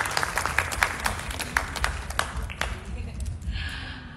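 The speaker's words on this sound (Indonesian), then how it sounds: "Boleh tepuk tangan ya?" An audience at a drama series launch event claps in a scattered burst that thins out over a few seconds, with crowd murmur underneath.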